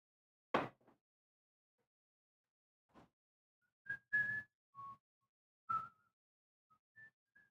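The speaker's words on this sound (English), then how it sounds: "He was whistling, "What if God was one of us?"" Faint, sparse whistling of a few short melodic notes from a song, with long gaps between them, quiet and somewhat distant.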